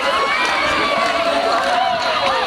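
A large stadium crowd cheers and roars at a school athletics race at the Fiji Coca-Cola Games, a loud continuous wash of shouting and whistling voices, with a commentator talking over it.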